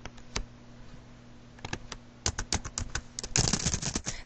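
Typing on a computer keyboard comes through as scattered single key clicks, then a denser burst of quick keystrokes near the end, close and fairly quiet, with a faint steady hum underneath.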